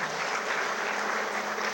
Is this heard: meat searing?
no